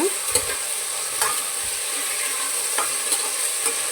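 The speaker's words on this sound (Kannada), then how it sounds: "ಈ ಮೆಂತ್ಯ ಸೊಪ್ಪು ಹಸಿ ವಾಸನೆ ಹೋಗೋವರೆಗೂ ಚೆನ್ನಾಗೆ ಫ್ರೈ ಮಾಡ್ಕೊಬೇಕು" Fenugreek leaves frying in oil in a pan while being stirred, a steady sizzle broken by several scraping stir strokes, close and clear with no talking.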